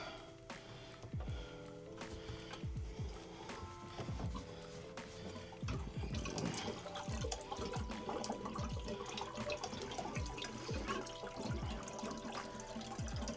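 Water gurgles and trickles steadily as household plumbing is drained with the main supply off, with irregular knocks and splashes growing busier partway through; no talking.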